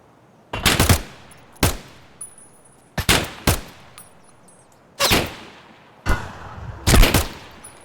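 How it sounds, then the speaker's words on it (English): Assault rifle fire in Escape From Tarkov, loud and close, arriving as about six short bursts spaced a second or so apart, each a sharp crack followed by a brief decaying tail, with no talking. "I'll go through with the assault rifle, even if I don't have all that much ammo left for it."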